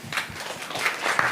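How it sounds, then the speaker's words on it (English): Audience applause at a creative meet-up, a steady patter of clapping from a room of people, moderately loud and continuous for about a second with no one speaking over it. "Round of applause for Father Bloom."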